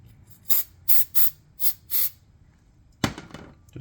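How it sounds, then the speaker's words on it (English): Five short hissing bursts from an aerosol can of silicone spray in quick succession, then a pause and a louder clatter with another hiss close by. "Just going to take some silicone spray."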